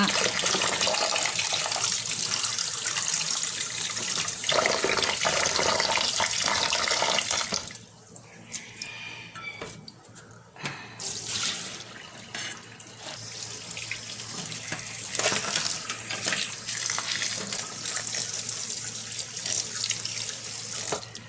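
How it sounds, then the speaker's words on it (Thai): Running tap water splashing into a sink while sticky rice is rinsed in two or three changes of water, a steady close rushing flow that drops briefly midway, then resumes with some clatter. "ข้าวเหนียวเราได้เวลาแล้วเราก็มาล้างสักสองน้ำนะคะ สองสามน้ำ"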